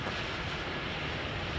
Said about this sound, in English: Another aircraft that's taken off.